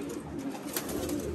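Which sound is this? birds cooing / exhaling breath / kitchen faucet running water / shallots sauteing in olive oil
birds cooing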